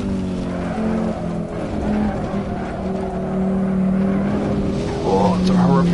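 An Audi Quattro in Assetto Corsa runs off the track into a gravel trap: a loud rumbling engine with tire scrub and skidding noise rising near the end, with a voice talking over it.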